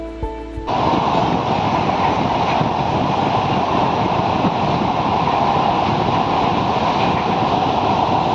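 A train runs steadily across the Padma Bridge with a loud, continuous rumble and rushing noise that stays even throughout, after a brief softer start.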